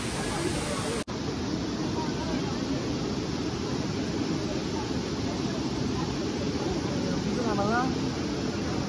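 The Kalu waterfall in Maharashtra roars as a steady, dense rush of falling water, loud and continuous throughout, with a brief sharp dropout early on and faint voices blending into the wash.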